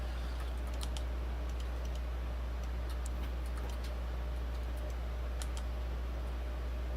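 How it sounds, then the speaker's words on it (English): Many people type fast on computer keyboards during a live online word game, a dense patter of light clicks over a steady low hum, no talk. "All still typing hard away on what lockdown could be."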